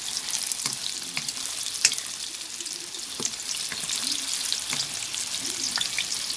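Bean sprouts stir-frying in a hot pan, a steady broadband sizzle with scattered spatter pops and soft scraping stir strokes throughout, fairly close and with no voices.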